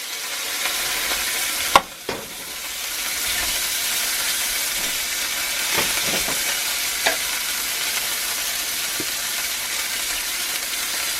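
Steak and garlic sizzle loudly and continuously in a cast iron pan, a dense close hiss with a couple of sharp knocks and stirring scrapes early on.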